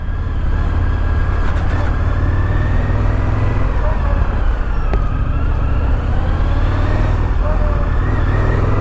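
Motorcycle riding through dense beachside traffic on an Indian FTR 1200S, the engine droning steadily as other cars pass close by, with a rider talking over the continuous road and wind noise.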